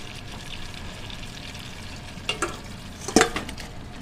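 Browned beef being stirred back into a stew pot of softened vegetables, a few short scraping clatters of the spoon over a faint steady sizzle, fairly quiet and close.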